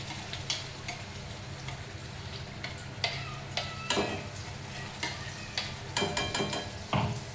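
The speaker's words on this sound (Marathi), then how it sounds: "जो आपण हा जो मसाला केलेला तो तेलामध्ये परतून घेऊ." Masala sautéing in hot oil in a kadai, a continuous close sizzle broken by sharp clicks and scrapes of a spoon stirring against the pan, with no one talking.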